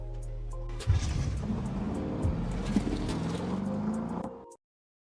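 A car is driven away in a film scene about a killer robot, its engine revving and accelerating loudly and steadily for several seconds before cutting off abruptly into silence.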